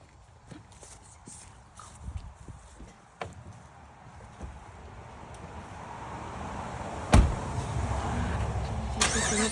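A pickup truck's engine is started outdoors; a low rumble rises steadily after a sharp cranking thump and settles into a loud, continuous idle.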